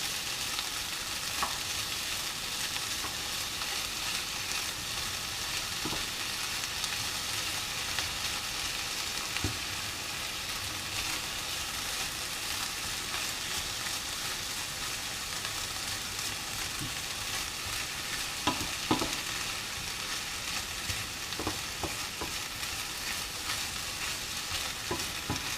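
Bacon frying gently in a pan sends up a steady, dense sizzle that holds for the whole stretch, with occasional light clinks and pops rising briefly above it.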